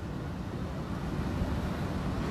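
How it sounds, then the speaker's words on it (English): Steady wind rumbles against the microphone throughout, a constant low buffeting roar with no voices, outdoors at Gardens by the Bay in Singapore at night. "Slightly windy."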